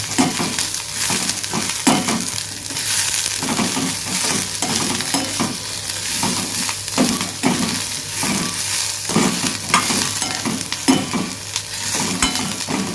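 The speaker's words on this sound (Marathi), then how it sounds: "जरा तेल लागलं की व्यवस्थित फ्राय होणार." Prawns and masala sizzle and fry in oil in a pan, a steady close crackle with stirring scrapes throughout and no talk.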